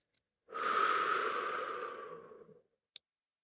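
A single deep, slow breath is let out close to the microphone, a soft airy exhale lasting about two seconds in otherwise near silence, followed by a faint click.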